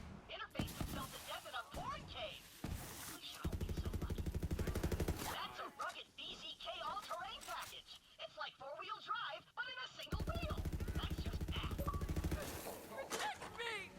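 Gunfire in Borderlands 3 comes in several bursts of rapid, loud shots, separated by stretches where a person talks over quieter game sounds.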